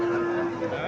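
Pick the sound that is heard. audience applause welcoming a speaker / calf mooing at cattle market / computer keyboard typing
calf mooing at cattle market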